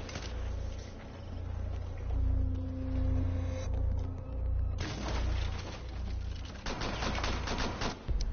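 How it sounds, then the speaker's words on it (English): Bursts of gunfire crackle in a Rainbow Six Siege match, clustered and sharp, over a steady low rumble, with no voices. "How did I not hear that gunshot?"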